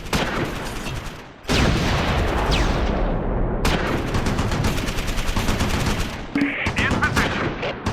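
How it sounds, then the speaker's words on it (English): Panzerschreck rocket fire and heavy gunfire in the Close Combat 4 Battle of the Bulge video game, a loud dense barrage of blasts and rattling shots that keeps going almost without a break, with a short dip near the start. "A long-range Panzerschreck shot at Galindo misses."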